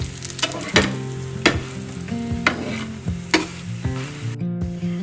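Roti frying in pure ghee on a hot griddle gives a steady close sizzle, broken by several sharp scraping and clattering knocks as it is flipped and moved.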